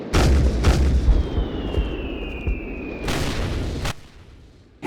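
Mortar fire in the zombie FPS game Instinct: heavy booming explosions near the start and again around three seconds, with a whistling incoming shell between them, loud over rumbling game ambience.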